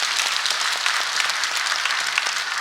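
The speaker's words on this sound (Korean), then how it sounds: "자, 우리 하나님께 영광의 박수를 한번 하겠습니다." A church congregation at a Korean sermon service applauds, a dense, steady wash of many hands clapping at once, loud and unbroken for the whole stretch.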